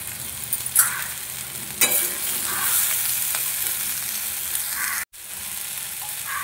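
Mixed vegetables sizzle and sauté in a hot pan with spices and sugar, a steady close frying hiss punctuated by a few sharper stirring clatters and one brief break near the end.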